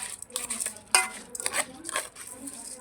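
A spoon scrapes and clinks against a pot while khichuri ingredients are stirred in plenty of oil, in short irregular strokes that are close and moderately loud.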